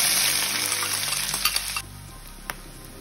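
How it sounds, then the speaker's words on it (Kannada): Onions fry in hot oil in a frying pan, hissing with a strong close sizzle that drops to a softer bubbling partway through, with a faint clink of a utensil near the end. "ಈರುಳ್ಳಿ ಫ್ರೈ ಆಗಿದೆ"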